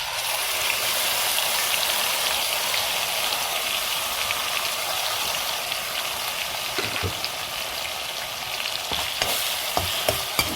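Ginger, garlic and onion paste fries in a hot pan for egg curry, making a loud, steady sizzle throughout with a few small clicks near the end.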